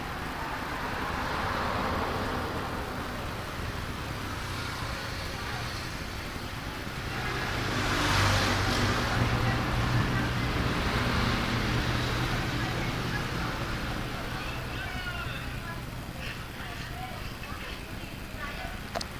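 Hot air rework blower set to 360 degrees with airflow at 1.5 heating a Poco X3 Pro phone board, a steady airy hiss rising briefly in the middle, under someone talking throughout.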